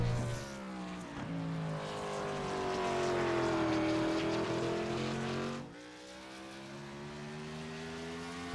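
A race car engine drones steadily through an iRacing qualifying lap at Martinsville Speedway, its pitch rising and falling with harmonic bands as the car works through the corners. The note dips briefly and then picks up again, loud and alone.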